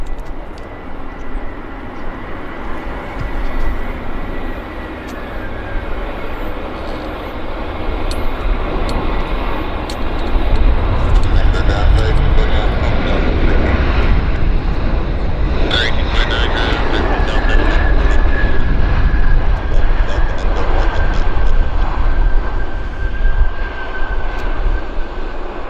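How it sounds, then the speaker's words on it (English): A fixed-wing airplane flies over the north side of Vancouver International Airport (YVR), a loud, continuous jet roar that swells in the second half, with a steady whine above it and broad outdoor background rumble. "There's another aircraft."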